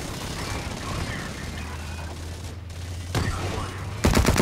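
Gunfire in the online shooter Blacklight: Retribution during a capture-the-flag match, with a busy mix of shots under steady game noise and a loud burst of rapid automatic fire near the end.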